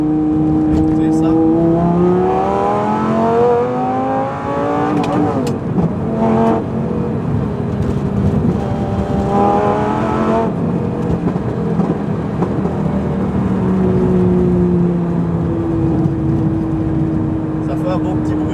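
A Lamborghini Gallardo with a straight-pipe exhaust accelerates hard through several gears, a loud rising engine howl with clear shift breaks, heard from inside the car with someone talking over it at times.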